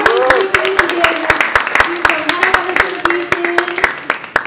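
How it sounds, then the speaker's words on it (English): An audience at an Indonesian Week lecture and puppet show event claps for the lecturer, a lively round of close, sharp handclaps with a voice talking over it. "give another round of applause for our lecturer."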